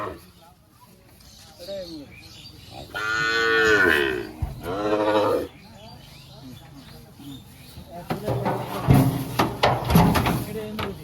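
Sahiwal bull cattle moo loudly several times while being loaded onto a truck, with two long, strong calls early and more lowing and scuffling near the end, under people talking.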